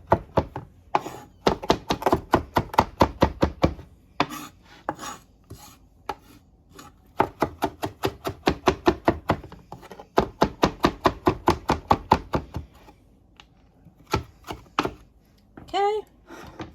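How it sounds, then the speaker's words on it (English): A knife chops through chard leaves on a cutting board in quick, even runs of sharp taps, pausing and resuming several times, close and clear. "just running my knife through it"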